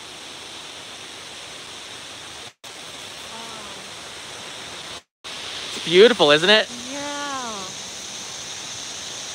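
Steady broadband rush of Shiraito Waterfall near Mount Fuji in Fujinomiya, constant and enveloping, with a couple of brief dropouts and people talking briefly over the roar.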